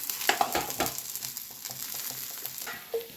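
Okra frying in oil in a pan, a close sizzle with a few scraping stirs and light clinks of a spatula at the start, fading to a steady soft crackle.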